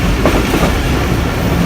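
A Pakistan Railway train rolls along the tracks, heard from on board as a loud, steady rumble of wheels with faint rhythmic clatter and no voices.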